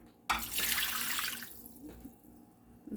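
Water poured from a cup over a whole raw chicken being prepped for roasting, a sudden splashing gush that carries on for about a second and then tapers into a few trickles, close up and fairly quiet.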